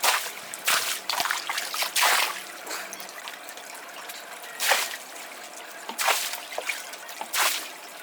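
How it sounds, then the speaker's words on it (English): Chlorine solution in pool water poured from a bucket into an above-ground pool after winter, splashing and trickling in several uneven gushes with quieter dribbling between, close by. "We take a bucket of water from the pool, add it in about 3 to 4 parts, added it and spread it over the entire area of the pool"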